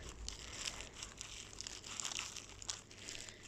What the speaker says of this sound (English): the plastic bag is now underneath and it's rolling